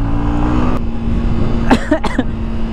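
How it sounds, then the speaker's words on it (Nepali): A person coughs several times in quick, short bursts close by, over a steady engine-like hum of traffic. "मलाई चिसो लाग्दा जस्तो भयो क्या खोकी लाग्यो"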